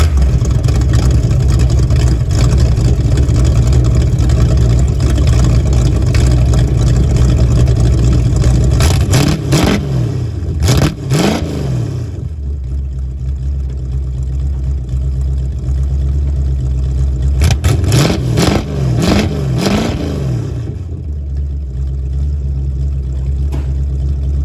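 A 1970 Roadrunner engine fitted with a new exhaust and cherry bomb mufflers rumbles loudly at a low, throaty idle, then revs up sharply in two bursts a few seconds apart, each settling back to idle.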